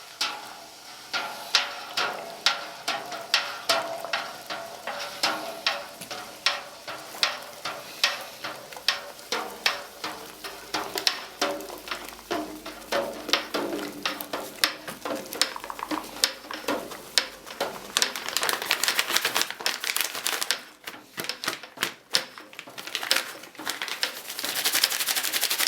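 Dry malt extract is stirred into stout wort in a brew pot, producing a close, repetitive series of sharp taps and clinks from the spoon against the pot, steady and rhythmic, with no talking.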